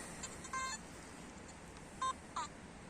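A metal detector gives a few short electronic tones over a quiet hiss, with one steady beep and a brief warbling tone near the end.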